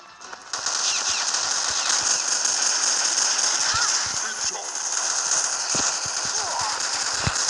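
Repeated sharp shots and rattling bursts from guns in a shooting video game, spread irregularly over a continuous busy game background.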